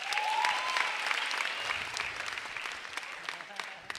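Stand-up comedy audience applauding as a comedian takes the stage, a sustained wash of many hands clapping, moderately distant and steady, with a voice speaking over it.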